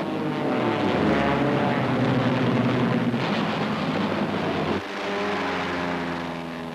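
A Hurricane fighter plane's propeller engine drones loudly and steadily with a rough, throbbing roar, shifting to a slightly lower, steadier tone near the end; no voices.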